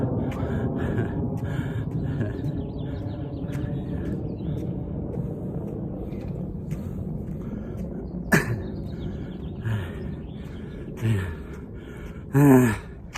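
Heavy, steady panting of a person walking uphill outdoors, breathing continuous and close with light wind and a few sharper gasps near the end.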